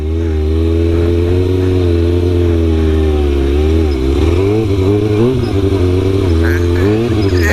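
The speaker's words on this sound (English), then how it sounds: "my bike's starting to stutter a little bit" A motorcycle engine idles loud and close with a steady drone that wavers and stumbles unevenly, the note dipping and catching as it stutters.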